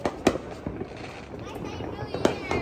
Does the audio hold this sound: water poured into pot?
no